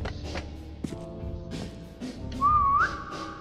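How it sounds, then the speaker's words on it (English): A single person whistles a short rising and wavering tone near the end, close and fairly clear, over a busy backdrop of layered tones and faint thumps. "Whistle, anyone around here?"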